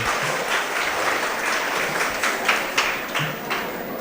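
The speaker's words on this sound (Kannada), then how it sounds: "ಅವರಿಗೆ ಗಟ್ಟಿಯಾದ ಚಪ್ಪಾಳೆ ಮೂಲಕ ಕರೆಸಿ." An audience claps loudly at a school opening ceremony at a Karnataka public school in Hiriyadka, Udupi, a sustained wash of many hands with a few sharper claps standing out, no speech over it.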